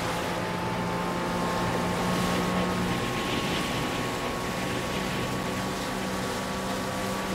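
A boat engine in Far Cry New Dawn drones steadily and loudly with a constant hum, wash of water and wind noise running unbroken throughout, with no talking.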